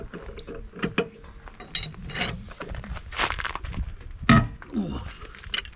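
Wrench clicks and metallic ratcheting while left-hand thread wheel nuts are loosened on a Gaz66 truck, in uneven bursts with clanks and effortful grunting between them.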